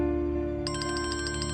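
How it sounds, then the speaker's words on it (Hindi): A mobile phone ringtone starts partway in, a repeating electronic chirp pattern over a steady low hum, fairly quiet and with no talking. "इसका फोन बज रहा है"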